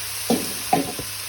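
Samosa filling seasoned with salt, turmeric and chili powder is sautéed in a pan, with three brief stirring scrapes over a soft, steady background hiss.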